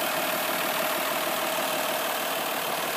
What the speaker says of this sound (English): It's a Jeep diesel engine.